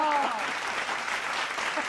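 Short burst of weak audience applause at a political satire show, fairly faint and diffuse, with a voice briefly heard at the start.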